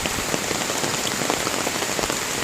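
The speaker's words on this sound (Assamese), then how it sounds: "যিটোহে বৰষুণ আজি এনেকৈ দি থাকিলেতো" Heavy rain pours down steadily, a dense, loud hiss of drops drumming on surfaces with no pauses and no voices.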